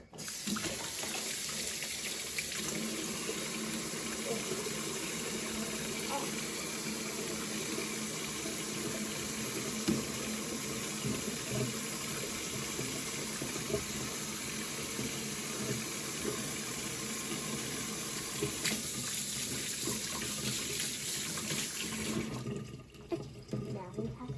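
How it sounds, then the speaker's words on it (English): Tap water runs steadily into a kitchen sink while hands are washed during pancake making, a constant splashing hiss that stops abruptly near the end, with faint talk in the background. "And wash your hands."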